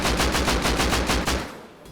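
Rapid automatic gunfire in the Rust video game during a recoil test, a dense burst of about ten evenly spaced shots that stops abruptly, loud and close with no talking.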